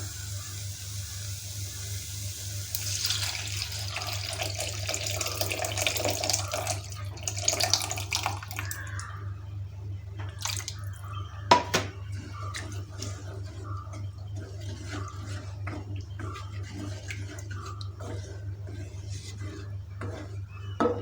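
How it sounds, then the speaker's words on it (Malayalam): Tamarind water is poured into a pan of rasam in a home kitchen, making a soft, splashy pour for several seconds over a low steady hum, followed by faint clinks and small splashes. "ഇനി നമുക്ക് ഇതിലോട്ട് നമ്മുടെ പുളിവെള്ളം ചേർത്ത് കൊടുക്കാം"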